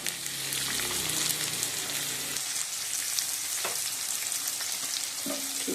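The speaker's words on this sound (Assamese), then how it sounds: "পিঁয়াজখিনি ৰঙচুৱা হ'ব লাগিব। কম তেলতে বনাওঁ, বেছি তেলত নবনাওঁ।" Chopped onions fry in a small amount of oil, giving a steady close-up sizzle with occasional stirring scrapes and no voices.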